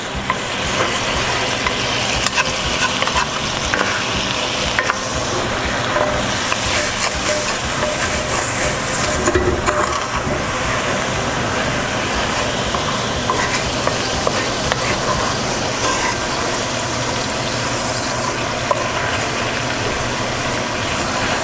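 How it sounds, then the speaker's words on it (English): A pan is deglazed after roasting pork tenderloin, with a loud, continuous sizzle of liquid hitting the hot surface and a utensil steadily scraping stuck bits off the bottom. "we're deglazing and we're just going to scrape up some of these little bits that are stuck to the bottom of the pan"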